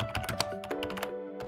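Brisk typing on a low-profile membrane keyboard, quick muted keystrokes clattering close by in a short continuous burst.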